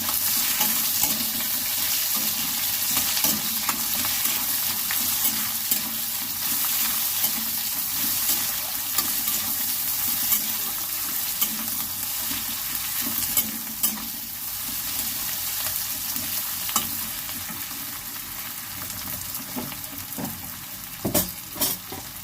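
Garlic sizzling loudly in hot oil in a pan for a dal with fried brinjal, a continuous dense crackling fry close up with occasional sharper pops and spoon clicks.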